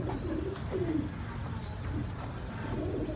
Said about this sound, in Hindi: ये माशाल्लाह मेरे रंगीले कबूतर हैं जी।